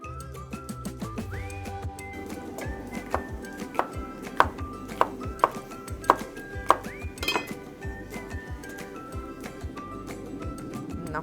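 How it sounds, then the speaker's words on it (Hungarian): A knife chops vegetables on a cutting board for Hungarian lecsó, tomatoes and onions among them, in a home kitchen: a run of sharp, evenly spaced thunks near the mic over a faint background hum. "Na és hogy ki milyenre vágja, Légli Attila barátom nagy darabokra szereti"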